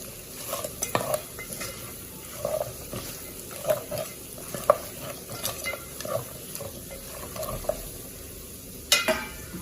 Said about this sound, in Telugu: ఇందులో మనం కొత్తిమీర కొంచెం వేసుకుందాం వేసుకుని తిప్పుతున్నాం